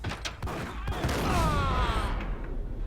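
Gunfire in the PC shooter Max Payne: a rapid fusillade of several shots in quick succession against a dense, noisy game backdrop, moderately loud throughout.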